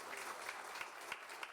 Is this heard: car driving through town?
no